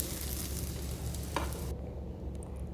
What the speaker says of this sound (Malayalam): ഞാൻ പ്ലേറ്റിലോട്ട് മാറ്റിക്കൊണ്ടിരിക്കുകയാണ്